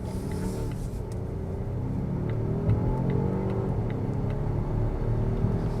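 A 2025.5 Volvo XC90 SUV accelerating in power mode, heard from inside the cabin as a steady, moderately loud engine hum and road rumble that holds constant without pauses.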